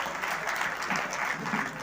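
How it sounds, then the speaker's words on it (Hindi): Applause from the audience at an annual university sports awards ceremony, a steady dense wash of clapping that fills the room and holds level throughout. "इनके लिए एक बार जोरदार तालियां बजाओ"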